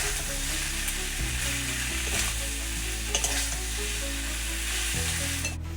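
A mushroom and potato curry (kosha) sizzles steadily in a pan with coriander leaves added. Spoon stirs scrape through at intervals, with a few sharper clinks, and there is no talk.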